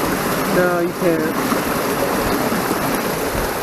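Steady rushing water flows through a nearby drainage culvert, a constant broad hiss, with a brief voice heard over it near the start.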